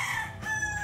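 A gamecock rooster at a game farm crows once, close and clear, with no talk over it.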